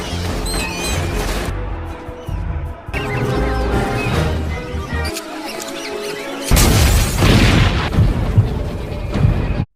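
Several booming blasts and crashes burst out over loud dramatic music, with a heavy rumbling surge near the end.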